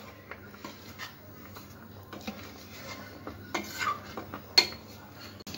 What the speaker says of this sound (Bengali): এবার আমি চামচ দিয়ে আস্তে আস্তে নাড়তে থাকবো যাতে পুলিগুলো না গলে যায়